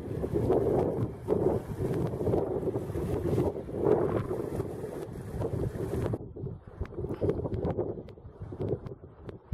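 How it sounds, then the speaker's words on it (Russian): A boat passing on a lake during a fishing trip for vendace gives a rumbling hum under gusty wind noise, louder at first and easing off after a few seconds. "О, еще лодка."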